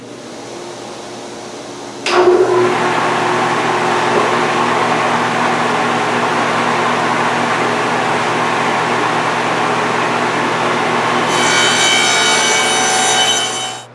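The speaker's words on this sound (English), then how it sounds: "I'm just going to cut the groove in the backs of the sides as well as the top and the bottom" A dado stack on a table saw cuts grooves into the backs of wood side, top and bottom panels to take a 1/4 inch back panel: a steady, loud, sustained whine that starts abruptly and runs unbroken to the end.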